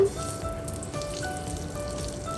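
Oil and unsalted butter sizzle in a hot wok as a steady, close, crackling fry with no talk.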